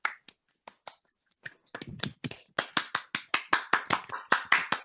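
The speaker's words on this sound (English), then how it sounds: "give them both a round of applause" Sparse scattered claps begin, then build into steady, brisk applause from a small group joining an online meeting, close and crisp, with no talking.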